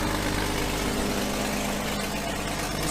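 Project car engine idling with a massive exhaust manifold leak, a loud, steady, close rumble with a rough, ticking pulse running throughout and no talking.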